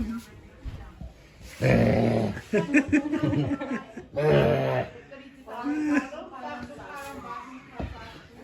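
A dog barks and growls in rough bursts, close by, while people talk over and between the sounds at an Old New Year celebration.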